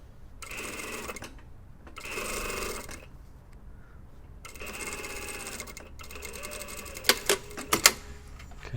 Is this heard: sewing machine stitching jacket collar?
yes